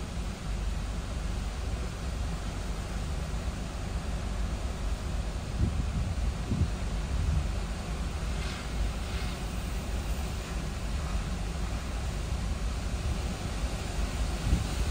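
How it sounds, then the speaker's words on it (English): Hurricane Helene's wind roaring through Tampa Bay, St. Petersburg, a steady, dense broadband rush that buffets the microphone continuously with slight gusty swells and no voices. "Look at the wind. Look at this wind."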